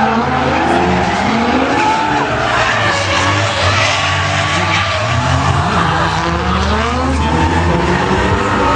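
Drift cars on a tandem run at a season-opening drift event in Pinsk roar loudly at full throttle, with tires skidding and squealing continuously as the engines rise and fall in pitch.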